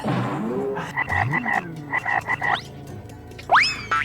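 A frog croaks in quick rhythmic bursts, clusters of short throaty rattles separated by brief pauses, followed by a rising squeaky call near the end, clear and close with no voices.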